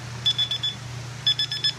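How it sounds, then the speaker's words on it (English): Countdown timer on a DIY hydro dipping tank built with a fiberglass-wrapped plywood bottom, giving two clusters of four short, high electronic beeps about a second apart over a steady low hum. "And there's a timer which you can hear very well."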